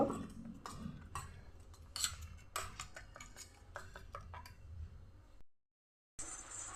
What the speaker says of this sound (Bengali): নুন আর কিছুটা জল দিয়ে বেটারটা তৈরি করে নেব